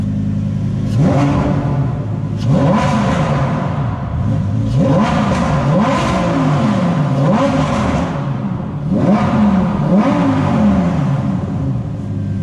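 Naturally aspirated V10 sports car in Corsa mode, revved loudly again and again: sharp rising blips that fall away, several in a row and close up, with no talking.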